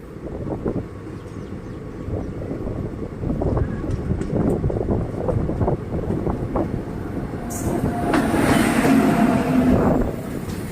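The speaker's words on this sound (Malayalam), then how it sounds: "അപ്പുറത്തെ ട്രാക്കിലൂടെ ഇതൊരു WAG9 ലോക്കോ ആയിട്ടൊരു ഗുഡ്സ് ട്രെയിൻ വന്നുകൊണ്ട് നിൽക്കുന്നുണ്ട്" A goods train hauled by a WAG9 electric locomotive passes on the adjacent track, a steady rumble of wheels and wagons that swells louder with a windy hiss toward the end.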